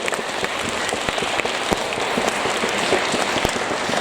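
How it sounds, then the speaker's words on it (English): An audience at a harvest festival gathering claps for a child, brisk close applause with sharp individual claps standing out over a dense, loud patter. "So, big round of applause for Zachary,"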